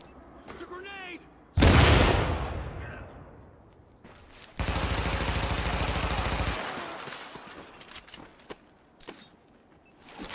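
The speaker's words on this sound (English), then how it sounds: "It's a grenade!" A grenade blast in Tom Clancy's The Division during a Brooklyn precinct siege: one loud, close boom that fades over a couple of seconds after a brief voice, followed by a sustained burst of rapid automatic gunfire and scattered shots.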